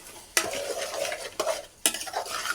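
Goat head curry being stirred in a pot after coriander powder goes in, with a few sharp scraping strokes of a utensil over a soft steady sizzle, close and alone.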